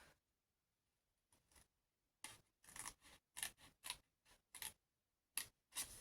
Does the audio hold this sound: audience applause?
no